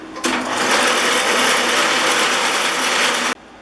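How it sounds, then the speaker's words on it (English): A buffing wheel polishes the lever cap of a Stanley No. 608C Bedrock jointer plane, a loud, steady whirring grind that starts abruptly, holds for about three seconds and cuts off sharply. "Now I'm going to take it over on the buffing wheel."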